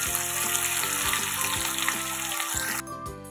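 Matar paneer gravy with ginger-garlic paste and bay leaves simmers and sizzles loudly in a pan, a steady crackling hiss throughout with a faint background hum, briefly thinning near the end.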